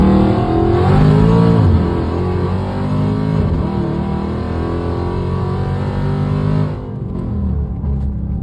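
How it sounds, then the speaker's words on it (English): Car engine running loudly from inside the cabin, droning steadily with a rise in pitch and an apparent gear shift early on, then settling, while the car shifts and runs roughly. "I was running my car right now from work to home or whatever, and it was running pretty weird"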